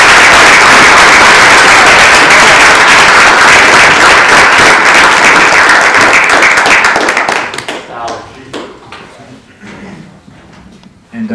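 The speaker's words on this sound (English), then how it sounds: "So please give a round of applause for Tall Paul." A panel audience gives a loud, dense burst of sustained applause for the hip-hop artist Tall Paul, which then drops to scattered claps and fades.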